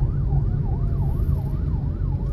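A police car siren wails steadily in a rising and falling pattern, loud and continuous over low road rumble.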